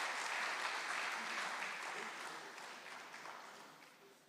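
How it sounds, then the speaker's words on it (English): Applause from an audience at a food system resilience programme launch in Prempeh Assembly Hall as the regional agriculture director comes on stage, a fairly quiet, steady clapping that gradually fades. "Can we please give him a round of applause as he comes up stage?"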